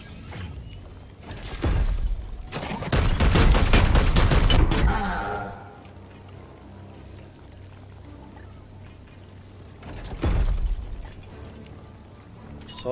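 A rapid burst of gunfire in Warhammer 40,000: Chaos Gate – Daemonhunters rattles for a few seconds, followed later by a single heavier blast, with quieter game sounds between.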